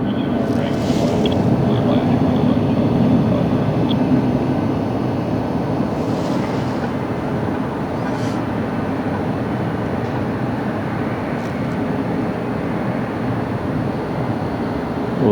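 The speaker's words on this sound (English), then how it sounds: "Something that was made in a time where Boeing was a good aircraft company is now on takeoff roll for the transcontinental flight" A Boeing airliner on its takeoff roll at LAX gives a loud, steady, wide roar with a low rumble that lasts throughout, and faint voices show through at times.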